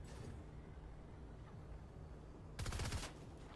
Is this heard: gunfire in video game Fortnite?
yes